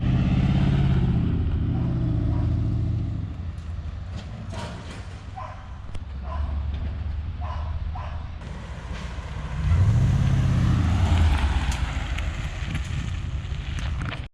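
A 5.3L truck with a MagnaFlow True X exhaust on 2.5-inch pipe, catless true duals and shorty headers drives by outdoors. A low exhaust rumble fades, then swells as the truck passes close, with wind buffeting the microphone.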